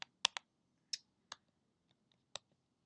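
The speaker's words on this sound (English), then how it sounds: "keyboard on this thing is a little iffy." A few sharp, faint clicks of keys being pressed one at a time, irregularly spaced with quiet gaps between them.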